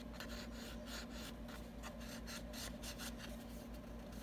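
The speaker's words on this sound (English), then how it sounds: "To take my bone folder and go in... hit those crease lines" A bone folder rubs along crease lines in paper, a quiet continuous scraping with soft repeated strokes, close but faint, with no talking.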